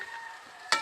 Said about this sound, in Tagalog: Haluin natin konti.